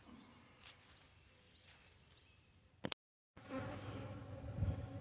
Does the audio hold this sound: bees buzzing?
yes